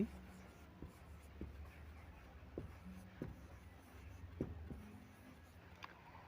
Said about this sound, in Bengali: আমি ভীষণভাবে কার্যকারী কয়েকটি রেমেডির নাম লিখে দিচ্ছি